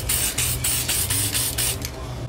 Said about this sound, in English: So I'll be doing a spray out here of it.